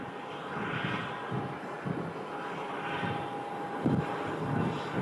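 Alaska Airlines passenger jet at Phoenix Sky Harbor, a faint, distant engine rumble that rises and falls gently, heard alone with no voices.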